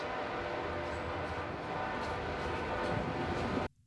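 A train rumbles past on CSX's Monon Subdivision, the former Monon line in Indiana, with a loud, steady roar of wheels and cars that cuts off abruptly near the end.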